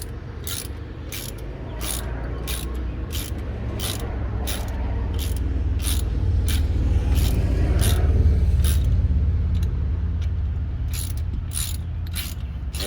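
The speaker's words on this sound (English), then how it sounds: "I have a 12mm socket wrench here, and I'm going to use to start to screw these bolts on" A 12mm socket wrench ratchets bolts into the rear drum brake of a 1998 Mitsubishi Montero Sport. Sharp, evenly spaced clicks repeat close up over a low background rumble, with a short pause partway through.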